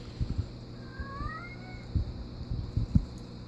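A cat lets out a drawn-out, wavering meow, somewhat distant, over a background of low thumps and bumps.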